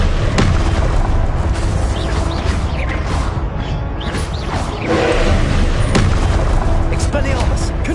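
Confringo explosion spells in Hogwarts Legacy combat burst out in rapid repeated booms and crackling blasts amid dense battle noise, loud and continuous, with spell shouts over them.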